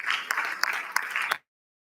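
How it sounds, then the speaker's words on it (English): An audience at a pharmaceutical sciences conference applauds in a short burst of clapping, with a few sharper claps standing out. The applause stops abruptly after about a second and a half, leaving silence. "Please give a big round of applause for him."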